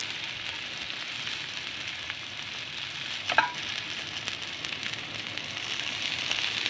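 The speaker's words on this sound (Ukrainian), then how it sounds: "я на розігріту сковорідку також висиплю горішки, які я буду використовувати, щоб вони трішки підсмажилися" Steady sizzling and crackling of nuts toasting in a hot pan, a constant close hiss with occasional small pops and a brief scrape.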